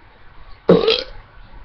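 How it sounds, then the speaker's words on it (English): A single loud, close burp erupts after a quiet stretch and rasps for about half a second before fading, with no talking. "Today I've got the world's biggest burp"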